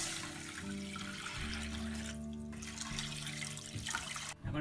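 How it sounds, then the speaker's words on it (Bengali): Water pours into a pan of frying vegetables and shrimp, producing a steady rushing, gurgling flow over a low sizzle, close and continuous, cutting off near the end. "ভাজি করে এর মধ্যে পানি দেব,"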